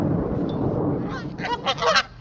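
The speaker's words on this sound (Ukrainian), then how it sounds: "Безстрашні дикі гуси." A flock of wild geese walking through a US town, honking repeatedly over a noisy outdoor background, several calls overlapping at close range.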